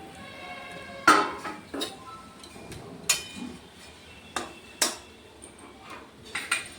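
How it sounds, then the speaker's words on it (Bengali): A metal lid and utensils clink sharply against a pot of mustard hilsa fish curry in a home kitchen, several separate close knocks spaced a second or so apart over a quiet background. "এবারে মাছগুলোকে কিছুক্ষণ ফুটতে দেওয়ার জন্য ঢাকা দিয়ে রেখে দেওয়া হলো।"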